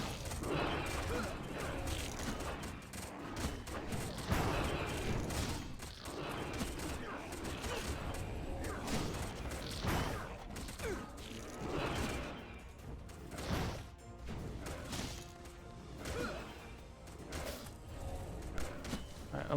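Rapid video game gunfire while gunning down enemies in the MMO Titan Siege, sustained dense bursts running through the whole stretch with mechanical clanks and game effects layered in and a voice talking throughout.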